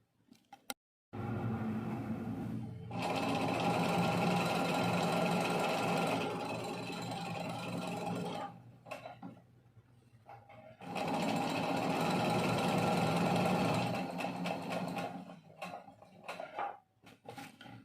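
An electric sewing machine stitches fabric in two long, close, steady bursts of rapid mechanical clatter, with short quiet pauses and small clicks between runs.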